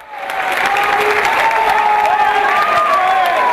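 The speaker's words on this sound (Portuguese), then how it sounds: "E foi bastante aplaudido." An audience applauding the mayor-elect of Aracaju as he takes the stage at a diploma ceremony, steady sustained applause from a sizeable crowd with faint cheering mixed in.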